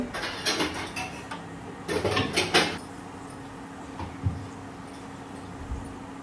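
A frying pan set down on a kitchen stove for cooking chicken leg pieces, with two bursts of clattering metallic knocks near the start, then only faint, sparse taps.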